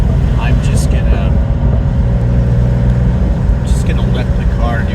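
Porsche 911 Turbo RUF engine drones loud and steady from inside the cabin on a twisty road, a deep low rumble with engine whine, while a person talks over it.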